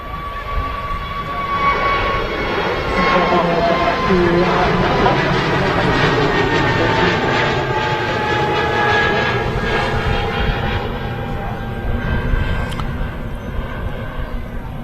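A jet airliner's engines roar at Manchester Airport, a loud, sustained whine and rumble that builds and holds steady as the aircraft passes nearby, with no voices over it.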